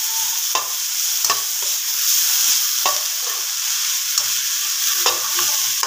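Cauliflower and carrots fry in a pan with a constant hissing sizzle, broken by repeated sharp clinks and scrapes of a utensil stirring, close up and with no speech.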